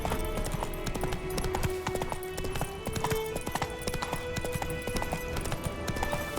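Roach's hooves clip-clop steadily in The Witcher 3, a brisk, even rhythm of close, distinct hoofbeats running throughout over quiet game ambience.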